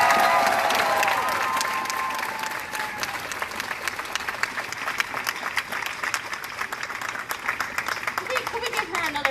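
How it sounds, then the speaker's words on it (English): Audience applause after a speech at a Black Student Union event, a dense wash of clapping that starts loud and tapers a little over several seconds, with a few cheers and some voices mixed in. "Can we give her another round of applause?"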